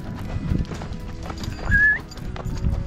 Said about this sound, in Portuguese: ele vai levar os bois para dentro dos bretes